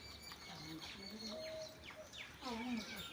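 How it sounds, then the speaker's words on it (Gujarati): An Asian koel calls faintly in a rural Gujarati village on a rainy day, with a few thin, repeated whistles set against background hiss and distant voices. "અય કાબડો જતી રહી કોયલી આવી"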